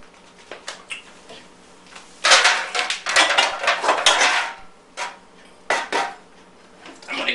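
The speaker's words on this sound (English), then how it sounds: "I'm going to get a mixing bowl to mix this up in" A mixing bowl and dishes clatter and clink in a home kitchen during Chinese roast pork preparation, with irregular bursts of ceramic and metal knocks, some close and loud, separated by quiet pauses.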